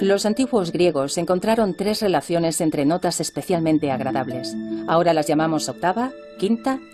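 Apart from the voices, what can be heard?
No everyday noise stands out behind the speech.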